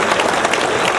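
Dense audience applause at a science fair awards ceremony, steady and loud throughout as sponsors are thanked, a broad wash of many hands with no gaps.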